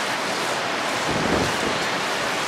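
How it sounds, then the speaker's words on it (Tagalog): A roaring wash of ocean surf, with a wave surging louder near the middle before easing back into steady rushing noise. "Kasi nga, grabe yung waves. Ang lala ng wave."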